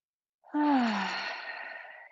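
A single deep yoga breath drawn in through the nose, heard alone and close: a soft, airy rush that swells quickly and then tapers away slowly.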